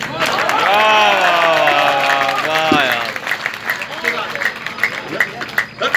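Audience applause at a Hindi kavi sammelan poetry recital in Bhopal, a broad steady clatter running under a loud, sustained voice that dominates the first half, then thinning into scattered claps as the talk continues.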